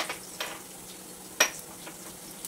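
Bedgi chillies and curry leaves sizzle in hot oil while semolina upma is made, a quiet steady frying hiss with a few soft stirring clinks and one sharper utensil tap.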